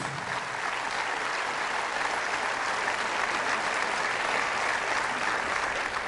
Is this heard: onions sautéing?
no